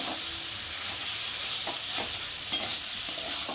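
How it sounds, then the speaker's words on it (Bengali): Tomato, onion and garlic stirred together in a hot frying pan, a steady broad sizzle with repeated scraping strokes of the spoon every half second or so, close and even, with no voices. "টমেটোর সাথে, পেঁয়াজের সাথে, রসুনের সাথে সব ভালো করে মিশিয়ে নেব।"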